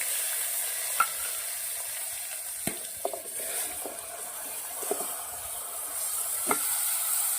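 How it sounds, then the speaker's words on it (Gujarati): Mustard seeds and cumin hit hot oil in a pan, giving a steady, bright sizzle with a few sharp pops and crackles scattered through it. "તેલ ગરમ થઈ ગયું છે થોડી રાઈ નાખું છું થોડું જીરું નાખું છું"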